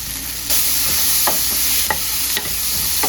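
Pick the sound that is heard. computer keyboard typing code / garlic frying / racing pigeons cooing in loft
garlic frying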